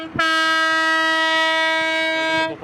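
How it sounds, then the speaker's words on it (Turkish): A tourist train at a lavender festival sounds a loud, sustained horn blast, a single steady tone held for over two seconds close by, with faint rumble beneath. "Şu an için trene bindik"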